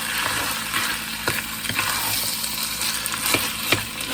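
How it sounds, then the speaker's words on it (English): A spoon stirs chili and tomato sauce in a pot on the heat, giving a soft, continuous sizzle with repeated scraping strokes, close and moderately quiet, with no talking. "Let's give that a stir."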